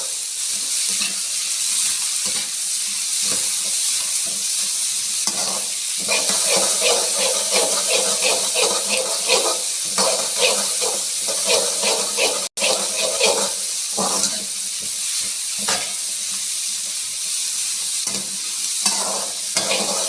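Red and green capsicum, onion and green chili sizzle and hiss in a pan as they are sautéed for oil-free chilli chicken, with repeated scraping stirs and clatter over a continuous frying noise.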